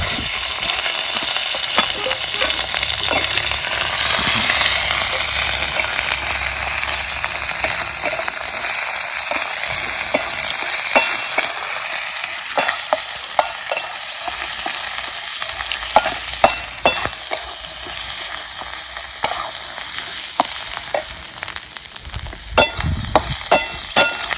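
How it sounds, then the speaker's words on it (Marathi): Ground masala frying in hot oil in a pan with curry leaves, a steady loud sizzle with scraping and clinking as it is stirred, continuous throughout with no voices. "वाटून घेतलेला मसाला तेला चांगला परतून घेतो"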